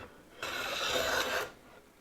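An antique stop chamfer hand plane cuts into highly figured wood in a single rasping stroke of about one second, close and clear against quiet workshop background.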